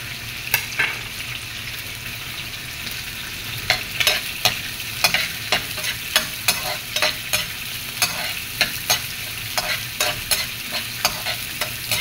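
Garlic, then onion, sautéing in a pan sizzles steadily, with repeated sharp scrapes and clicks of stirring scattered through it. No one talks over it.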